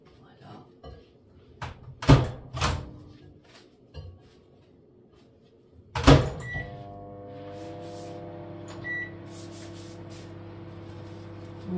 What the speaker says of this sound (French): on va le remettre encore 1 minute au micro-ondes